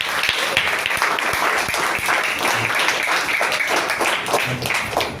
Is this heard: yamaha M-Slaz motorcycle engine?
no